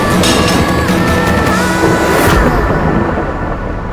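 A heavy, continuous rumble of thunder from a storm outside fills the scene loudly and steadily before slowly easing off, with no talking over it.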